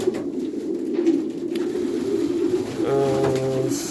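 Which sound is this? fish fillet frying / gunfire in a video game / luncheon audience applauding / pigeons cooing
pigeons cooing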